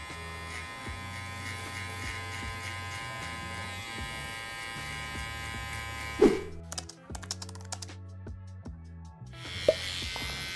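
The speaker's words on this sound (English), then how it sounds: "With our trimmer, we're just gonna go ahead and just soften the line a little bit." An electric beard trimmer works through a bushy beard in a steady, close buzzing hum that starts and stops several times. A few clicks and handling knocks break in partway through, with no talking.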